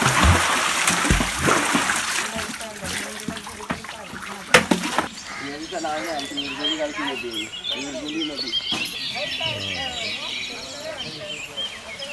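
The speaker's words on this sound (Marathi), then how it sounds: "तर हंडा घेऊन आम्ही पण चाललो विहिरीवरती पाणी भरायला नील" A metal pot is dipped and filled at a village well in the morning, with splashing and pouring water loud at first, then running water and trickles continuing beneath people talking, with birds faintly in the background.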